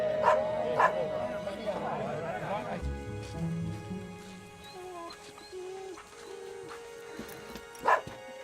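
In a war drama film, a dog barks and yips a few times up close at the start, followed by quieter whimpering and background sounds.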